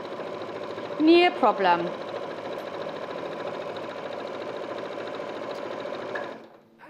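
Sewing machine or overlocker running steadily as a seam is stitched, a continuous mid-pitched mechanical hum throughout, with a person speaking briefly over it near the start.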